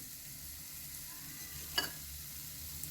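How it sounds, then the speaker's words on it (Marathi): Moong dal halwa stirred in a pan, a soft steady sizzle throughout with one brief louder scrape of the spoon partway through; no talking. "याला छान हलवून घेऊया"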